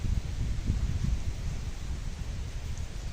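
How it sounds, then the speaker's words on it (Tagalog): Strong wind roaring steadily into the microphone at a small farm near a river, low and buffeting, with no voices. "Ang lakas ng hangin."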